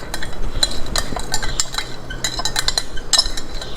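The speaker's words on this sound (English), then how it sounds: "I squeezed 2 parts of the lemon. Let me mix it nicely." Freshly squeezed lemon juice being mixed in a glass with a spoon, with rapid bright clinks and tinkles of metal against glass, close and fairly loud, continuing for several seconds.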